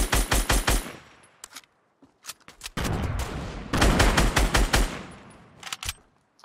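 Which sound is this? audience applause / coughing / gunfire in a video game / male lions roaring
gunfire in a video game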